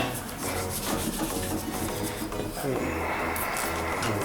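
Sulfurated potash patina being scrubbed into a bronze sculpture: a dense, continuous rasping rub with steady, close strokes for about four seconds.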